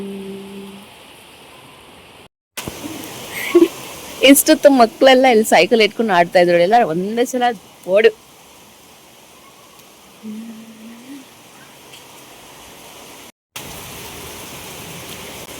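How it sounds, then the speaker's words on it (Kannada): Steady hiss of rain pouring down in Bengaluru throughout, with people talking over it in the middle and a brief break near the end. "ಈ ಕಡೆ ಮಳೆನೂ ಬರ್ತಿದೆ"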